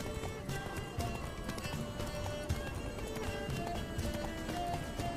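A horse galloping in the video game The Witcher 3, with steady, rapid clip-clop hoofbeats at close range and an occasional faint snort, heard without clear speech.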